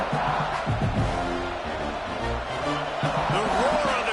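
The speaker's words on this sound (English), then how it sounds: "The roar of the crowd trying to fuel this defense to keep them pinned in their own end" A stadium crowd roars at an Auburn versus Georgia college football game, a dense sustained wall of noise from the stands with voices and shouts mixed in.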